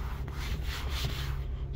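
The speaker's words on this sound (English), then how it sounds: "Let's see if it'll scrape off." Scraping at blue staining on a seat in a 2019 Jeep Wrangler Unlimited Moab Edition: a steady close rubbing scrape with a few short strokes over a constant low hum.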